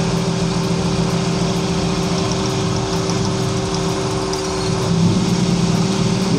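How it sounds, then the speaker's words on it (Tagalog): A sputtering, misfiring small engine runs steadily during a spark plug cylinder test on cylinder number 3, a continuous loud hum and rattle with no talk over it. "So start ulit natin yung makina. Subukan natin itong cylinder number 3."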